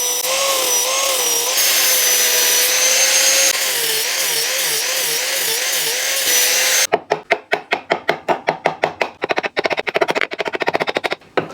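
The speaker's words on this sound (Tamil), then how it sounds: "கட்டிங் மிஷின் வச்சு லைட்டாக வந்து கட் பண்ணி விட்டுக்கிறேன்" A cutting machine slicing through wood for a homemade propeller bicycle, first a steady loud whirring cut, then a rapid run of sharp, rhythmic chopping bursts close by, with no talk.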